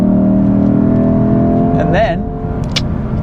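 A Lexus IS 500 with its naturally aspirated engine revs and roars steadily, loud and close, and a voice speaks briefly over it toward the end.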